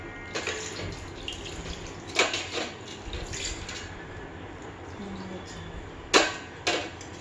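Running tap water at a sink while something is washed with Modicare Beyond Blue multipurpose cleaner, with soft splashing and several brief louder gushes and spatters across the clip.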